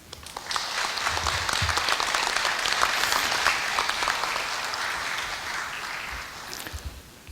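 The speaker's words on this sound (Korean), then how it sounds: "뜨거운 박수로서 감사의 뜻을 전하고자 합니다." An audience claps warmly at a university retirement ceremony, a dense, sustained round of applause that swells and then tapers off toward the end.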